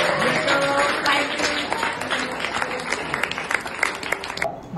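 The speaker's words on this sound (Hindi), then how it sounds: "बच्चे के लिए ताली मारो।" Children at a school science experiment clapping for a child, a dense stretch of applause with sharp individual claps growing more scattered toward the end, with some voices underneath.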